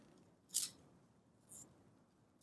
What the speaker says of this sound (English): So first, you cut off the old leaves.